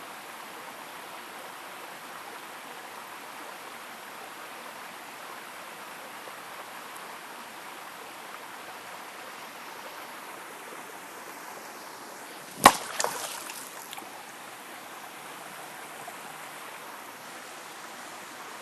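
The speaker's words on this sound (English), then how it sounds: "the sound of the water that you hear behind me" Steady, continuous rush of a flowing stream, even and unbroken, with a single brief knock partway through.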